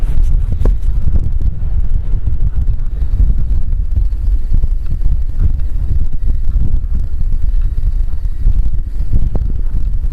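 Strong wind buffets the microphone outdoors during metal detecting, a loud, steady rumbling roar with gusty swells and no voices.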